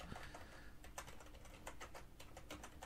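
Fingers type quickly on a computer keyboard, producing a close, steady patter of light key clicks with no voices over them.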